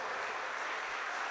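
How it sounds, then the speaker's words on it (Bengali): An audience claps at a school ceremony honouring a top-ranked student, a dense, steady wash of applause that carries on without a break. "আর একটু জোরে হাততালি"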